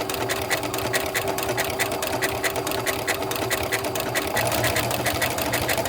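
A sewing machine stitches slowly around an appliqué shape on a quilt block, giving a steady, close, even mechanical whir with a fast needle rhythm that runs unbroken throughout.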